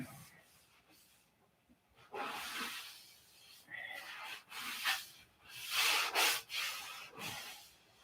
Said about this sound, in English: I think I'm done sanding it until after I get a coat of white on it